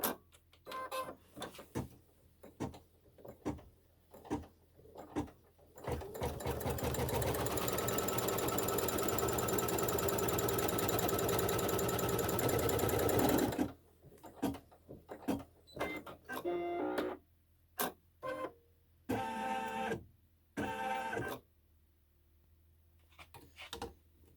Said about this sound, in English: Now it'll do the seam stitch.